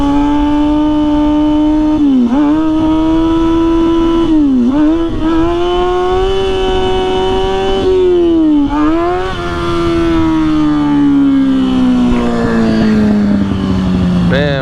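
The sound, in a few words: motorcycle engine running, bike warming up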